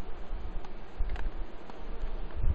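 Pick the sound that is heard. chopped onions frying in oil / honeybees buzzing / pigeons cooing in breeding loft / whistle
honeybees buzzing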